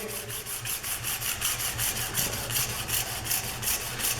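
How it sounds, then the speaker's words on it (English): Hand sanding with sandpaper on an engineering drill gauge, rhythmic back-and-forth rasping strokes repeating at an even pace, close and moderately loud, with no talking. "I suppose it depends how vigorous you are with your sanding."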